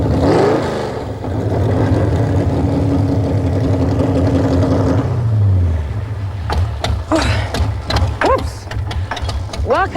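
A 1980s sand drag racing car engine idles and revs loud and close, its steady throb dropping away midway as a voice talks over the fading rumble.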